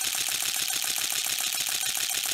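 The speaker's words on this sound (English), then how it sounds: "The whole mirror shutter system in there is moving around very quickly." Shutter and mirror of a 2005 Nikon D2X camera firing in a rapid continuous burst, about 11 frames per second, loud and close, alone.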